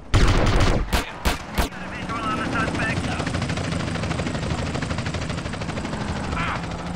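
A police helicopter in the video game GTA San Andreas, where a few sharp bursts of gunfire give way to a steady, droning rotor chop that carries on at a fairly loud, even level.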